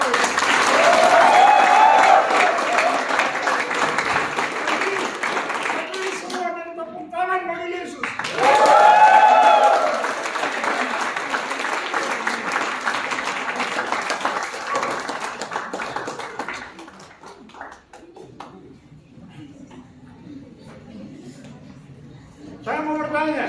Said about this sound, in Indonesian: Tepuk tangan ramai waktu itu.